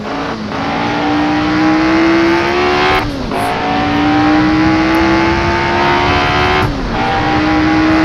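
A racing car in Assetto Corsa, driven on a wet track in rain, screams loudly through rising revs, with three sharp drops as it shifts gear and then climbs again, alone without voices.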